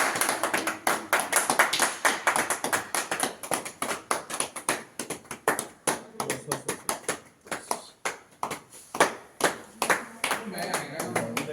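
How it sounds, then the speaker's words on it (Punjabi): Rapid group clapping on a song-shooting set, bright and close, rolling in uneven bursts that thin out and pick up again, with a faint murmur of voices underneath. "ਇੱਕ ਵਾਰੀ ਫੇਰ ਤਾੜੀ ਦਾ ਸ਼ਾਟ"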